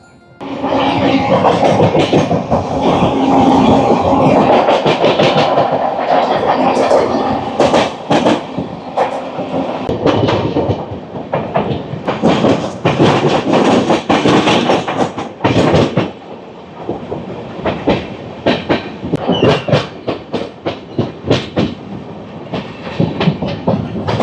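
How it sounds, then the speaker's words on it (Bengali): The Howrah–New Delhi Rajdhani Express runs through Bardhaman Junction station without stopping, a loud continuous rail rumble with rhythmic clickety-clack of the wheels that keeps shifting in strength as the train rolls on. "আমরা এখন বর্ধমান জংশন স্টেশন ক্রস করছি।"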